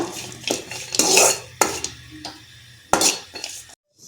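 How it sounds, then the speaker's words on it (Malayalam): Cashews fried and stirred in a pan while making a Vishu payasam, heard as repeated clinks and scrapes of a spoon against the pan, loud and close, with a faint sizzle beneath and no talk. "കാഷ്യൂ ഇട്ടിട്ട് നന്നായി ഒന്ന് വറുത്ത് കോരിയെടുക്കുക"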